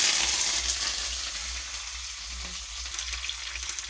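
Dried red chillies crackle in tempering oil along with cumin, mustard seeds, peanuts, chana dal and cashews, a continuous near frying sizzle over a low hum with no talking.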